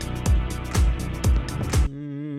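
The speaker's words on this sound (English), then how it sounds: "It kind of sounds like a Rhodes keyboard or something like that." A music track under review with a long, sustained Rhodes-like electric keyboard pad repeating over a beat of deep thumping kicks, the pad ringing on alone as the drums stop near the end.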